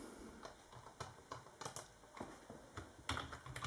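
Typing in LibreOffice Writer on a computer keyboard connected to a Raspberry Pi 2 running Fedora 21, an unhurried series of distinct key clicks at uneven intervals, near and fairly quiet over a faint hum.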